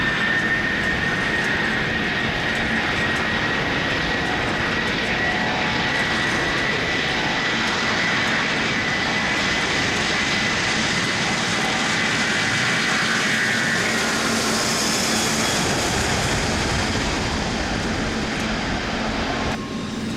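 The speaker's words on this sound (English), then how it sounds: "Now there is a takeoff of another A330, but now it's from the Royal Dutch Air Force" A Royal Dutch Air Force Airbus A330 taking off at a model airport, heard as a steady, loud jet engine roar that stays strong throughout, with a broad whooshing hiss rising partway through.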